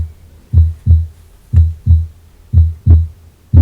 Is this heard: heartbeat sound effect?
yes